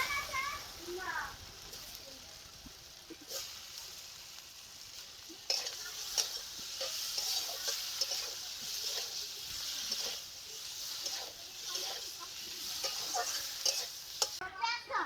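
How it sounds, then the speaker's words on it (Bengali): Spiced masala and fried potatoes stirred in a pan for a potato, aubergine and fish curry, a soft sizzle under repeated scraping and knocking of a spatula, with faint voices of children in the background. "মশলাটাকে এখন ভেজে নেব মশলাটাকে যে ভেজে নিয়েছি এখন ভেজে নেওয়া আলুগুলো দিয়ে দিচ্ছি"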